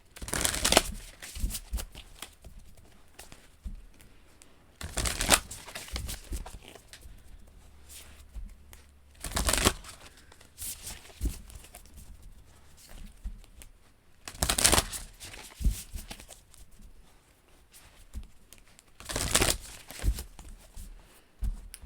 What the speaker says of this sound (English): concentrate on the cards while I shuffle them